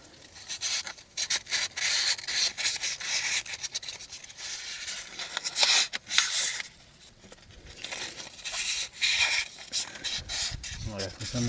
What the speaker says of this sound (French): Je vais le poncer pareil avec un bout de P1000.